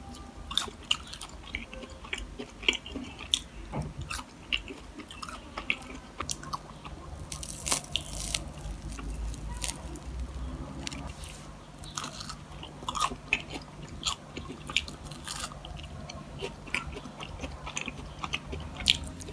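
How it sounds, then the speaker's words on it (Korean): Crispy sweet potato glutinous rice donuts bitten and chewed close up, with repeated crunchy bites and soft moist chewing running steadily throughout, no talking. "겉은 바삭하게 씹히고 찹쌀가루를 사용해서 속은 고구마랑 같이 부드럽게 쫙 퍼지는 느낌이에요."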